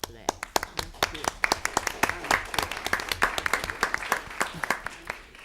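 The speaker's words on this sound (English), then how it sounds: "Clap for that." An audience claps at a school enrollment presentation: sharp, distinct hand claps from a modest group, fairly close and irregular but sustained, with some voices mixed in.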